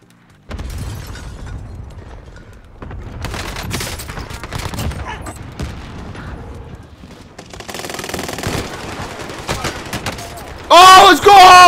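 Owen gun firing in Call of Duty Vanguard and Warzone, with rapid automatic bursts and explosive pops in several loud stretches, ending in a sharp electronic tone.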